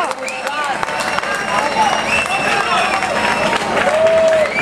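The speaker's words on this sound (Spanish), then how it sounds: "Un aplauso para ellos." A live concert audience applauds two bands with dense, steady clapping and scattered cheers from a crowd, with murmured voices mixed in.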